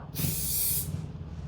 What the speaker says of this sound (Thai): ฉีดสเปรย์ลับตาครับทุกค้าลับตา